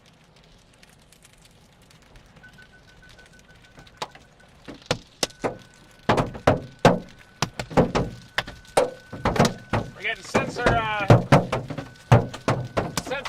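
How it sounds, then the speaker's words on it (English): Large hail pounds on a car roof during a storm chase, starting with scattered hits and building into a dense, rapid clatter, with a beeping alert tone and a voice in between. "Big hail coming in"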